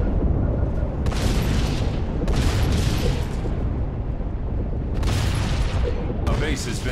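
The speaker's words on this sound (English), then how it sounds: "Destroying bases have bigger, more explosion type sounds, whereas buildings is just one giant explosion." Deep, rumbling explosions from a base being destroyed in the video game Halo Wars, a dense continuous roar with repeated crackling bursts layered on top, loud and sustained throughout.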